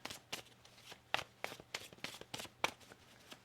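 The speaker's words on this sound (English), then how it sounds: "One more shuffle." Tarot cards being shuffled by hand, a quick series of crisp papery riffles and snaps repeating at an uneven rhythm, close and fairly quiet with no talk.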